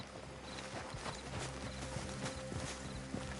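Horses' hooves clip-clop steadily and close by as riders arrive, a continuous irregular clatter over a low background hum, with a horse whinnying faintly.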